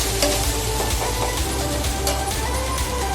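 Ground spice paste sautéing in a pan for sandgyachi gravy, a loud, dense sizzle and crackle running steadily throughout with no talking.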